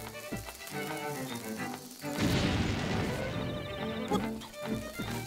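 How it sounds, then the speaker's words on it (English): A bomb thrown and exploding in the game Link's Awakening, with a loud crash and boom around two seconds in that rumbles on briefly amid game music and effects. "I think we can throw a bomb from down here."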